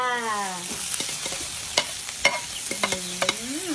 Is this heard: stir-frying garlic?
yes